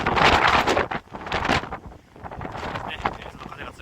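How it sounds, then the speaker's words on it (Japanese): Strong gusts of wind buffet the microphone outdoors after a typhoon, a loud rumbling roar that rises and falls in surges without pause. "ちょっと風が強くてすいません。"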